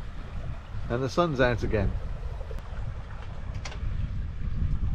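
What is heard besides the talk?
sailboat sailing in the wind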